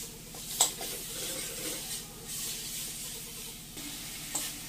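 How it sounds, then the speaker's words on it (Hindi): Turmeric and spice masala sizzling and being stirred in a hot pan, a steady close frying hiss with soft scraping strokes and a couple of light utensil clinks, no talking. "देखिए अच्छा से इसको हम भून लेंगे।"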